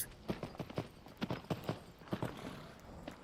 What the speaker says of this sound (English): There's a little mini horse.